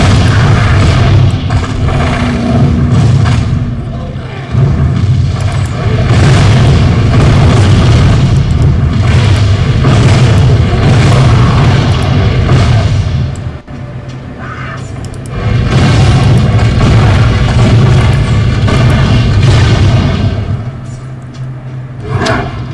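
Blast cannon explosions in Torchlight 2 keep booming and rumbling, loud and dense, rolling almost continuously with a short lull midway and a brief drop near the end.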